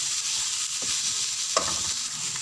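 Masala for masoor dal with toori sizzles steadily in a pan, a constant close hiss broken by a few soft scrapes of stirring.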